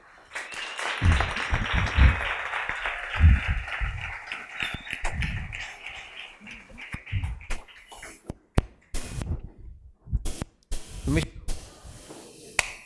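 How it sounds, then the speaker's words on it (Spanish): Applause from a live audience greeting Yaku Pérez Guartambel, a broad hiss of many clapping hands mixed with crowd voices that thins out over several seconds, followed by scattered claps and talk. "pido que le den un fuerte aplauso a Yacu Pérez Huertambel"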